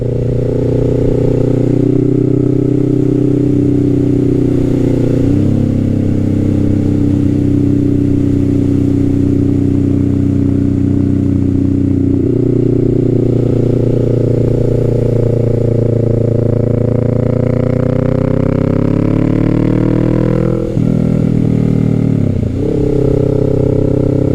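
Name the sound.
Kawasaki Z650 motorcycle engine accelerating past 4,000 RPM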